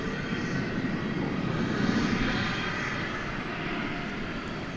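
An airliner taking off at DFW Airport at night, a broad, steady engine roar that swells slightly and stays loud and continuous, heard from a moderate distance without any voices.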